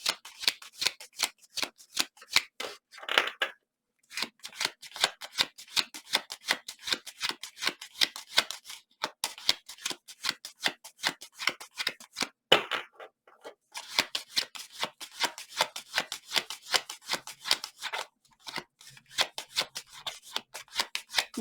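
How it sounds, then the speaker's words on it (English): Tarot cards riffled and shuffled by hand in quick, crisp bursts, close and clear, repeating steadily with a few short pauses between runs. "I don't like to shuffle this way, but I do it occasionally."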